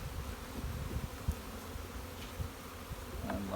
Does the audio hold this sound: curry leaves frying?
no